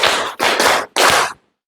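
A class of students claps in unison on command, producing a few loud, broadband bursts of group clapping separated by short gaps, then silence.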